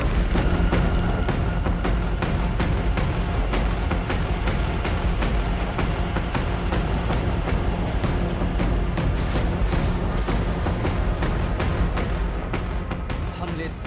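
Dense, continuous rumbling barrage of explosions and artillery fire from the Russia-Ukraine war, with sharp repeated blasts, loud and sustained throughout, with a voice faintly underneath.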